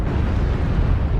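Weapons on a Nova Cat mech fire in MechWarrior Online, a brief, loud, dense roaring blast that stays steady and close for about a second.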